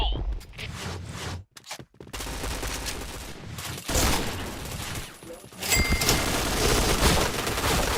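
Bursts of rapid automatic AUG rifle fire in a video game, loud and dense, broken by brief near-silent gaps and a lull before a renewed heavy barrage.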